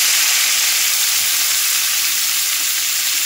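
Chopped vegetables fry with cumin seeds in hot oil for poha, giving a loud, steady sizzle that keeps up without a break, with no talking.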